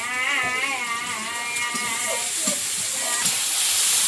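Chopped onion frying in oil in a wok for a vegetable stem curry gives a steady close sizzle and crackle with scattered stirring scrapes throughout.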